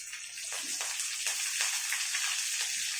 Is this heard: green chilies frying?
yes